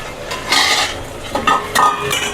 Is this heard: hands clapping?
no